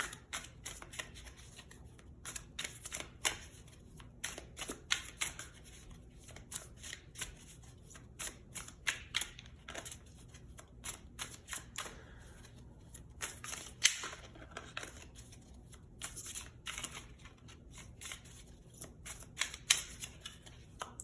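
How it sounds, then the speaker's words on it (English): A deck of tarot cards being shuffled, with rapid bursts of riffling flutters and soft card slaps repeating in an irregular rhythm throughout, close and clear, with no talk. "We'll draw some tarot cards."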